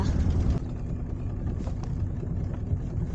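A sailboat's inboard engine idles at a steady low chug as the boat prepares to leave, with a brief louder burst at the start before settling into an even, moderately close hum.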